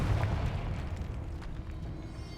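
A Confringo spell blast in Hogwarts Legacy sets off a deep, muffled boom that rolls and fades over a couple of seconds, close and heavy in the low end, with no voices.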